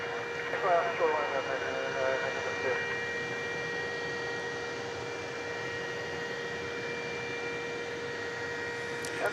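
An aircraft air start unit across the way at the UPS ramp, DFW Airport at night, gives a steady, distant high whine with a constant drone beneath, while brief chatter sits near the start.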